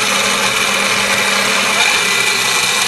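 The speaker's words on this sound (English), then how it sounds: "Now I'm drilling the inlet and exhaust holes in the valve chamber." Drilling into a model steam engine's valve chamber to make inlet and exhaust holes, a steady, loud, continuous power-tool whir with no pauses or talk.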